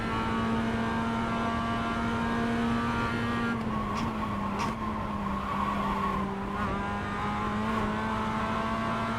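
Race car engines drone in a racing video game, a loud continuous whine with steady pitch that shifts slightly as the cars hold speed, with a few brief clicks and no voices.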